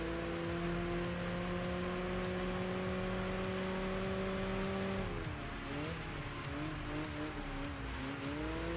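Lotus Esprit GT1 engine in the racing video game Enthusia Professional Racing, a steady loud droning note that holds then shifts pitch as the car changes speed, with no talk.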